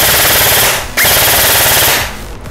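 Lancer LT-25G Interceptor airsoft rifle firing full auto, two loud, close bursts of rapid buzzing shots with a brief gap between them, then a quick fade.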